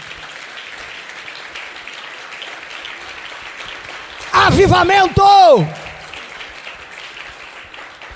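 Congregation clapping in a church after Sunday worship music, a continuous soft patter of many hands, interrupted midway by a loud shouted exclamation from a voice.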